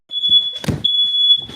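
A home smoke detector lets out a loud, steady high-pitched alarm tone close by in a kitchen during cooking, briefly broken by a clunk, with rustling under it.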